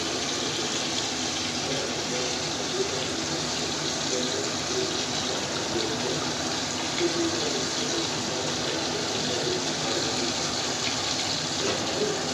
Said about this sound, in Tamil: இப்போ நம்ம புளி கரைச்சி ஊற்றிக்கலாம்.